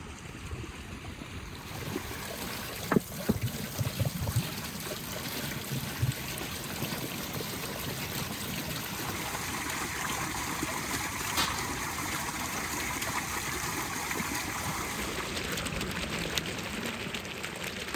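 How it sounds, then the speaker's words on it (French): Water runs steadily while soaked beans are rinsed in a village kitchen, a continuous close trickle and splash with a few louder knocks early on, and no talking. "Trempez les haricots brièvement avant de les rincer pour faciliter l'élimination de la saleté et des petites peaux."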